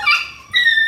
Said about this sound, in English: And here is puppy with his brothers.